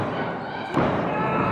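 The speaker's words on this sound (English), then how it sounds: "clothesline by Cannon." Wrestler's body slamming onto the mat after a clothesline at a live wrestling show, a single heavy thud partway through, with a commentator's voice and crowd noise around it.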